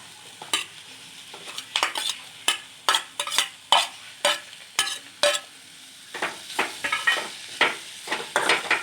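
Steamed cluster beans (gavar) stirred in a pan, with a rhythmic series of about a dozen crisp spoon scrapes and taps over a faint, low sizzle, close by with no talking.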